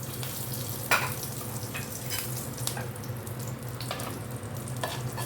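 Black cumin and a green chilli stir in hot oil over a switched-off flame, a soft, steady sizzle with light spoon scrapes and an occasional louder clack.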